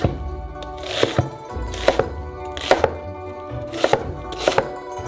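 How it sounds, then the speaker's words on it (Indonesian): Knife chopping onion into large pieces on a board, a series of crisp, close cuts arriving in small irregular clusters, with no one talking. "potong bawang bombay menjadi potongan besar"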